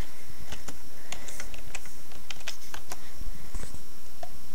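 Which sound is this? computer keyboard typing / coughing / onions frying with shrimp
computer keyboard typing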